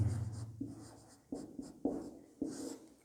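A teacher writes a maths lesson on arithmetic progressions on a board, making scratchy strokes with several distinct taps and starts, close and moderately loud, with no speech.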